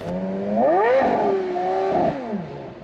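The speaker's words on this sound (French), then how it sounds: "V10 Atmo qui fait un bruit." A Porsche Carrera GT's naturally aspirated V10 revs up sharply, holds a high wailing note, then drops back. Loud and close, with no voices over it.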